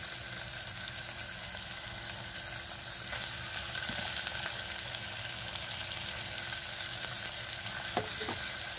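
Shrimp frying in a hot pan sizzle steadily with a dense, continuous hiss, broken by a few soft scrapes and clicks of stirring.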